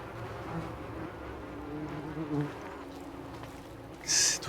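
Flies buzzing in the video game Shadow of the Tomb Raider, a low steady drone with a brief louder buzz passing close near the end.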